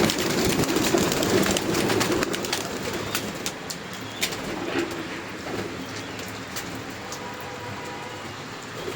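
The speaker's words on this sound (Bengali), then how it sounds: "কবুতর ছাড়তে হবে।" Racing pigeons at a loft coo and flutter amid a dense, busy wash of bird noise and wingbeats as they are let out, close and continuous, with no talking.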